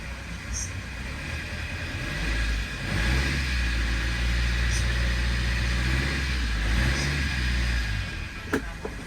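A sailboat's engine is revved in neutral, its low rumble swelling from idle into a sustained louder drone before settling back, with a voice speaking over it.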